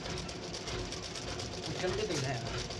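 A sewing machine stitches over existing seams on a cut-band front strip with silk thread, its close, steady whirring hum running continuously while a voice talks over it.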